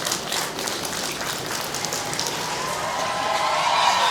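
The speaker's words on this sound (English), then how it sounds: "Round of applause for John." Wedding guests applaud during a ceremony, right after the exchange of rings, in a dense, steady wash of clapping that holds fairly loud and even throughout with no voices standing out.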